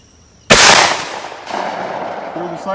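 A 12 gauge shotgun fires a single mini slug reload at a shooting range, one sharp loud blast that decays into a lingering echo, followed by faint voices speaking.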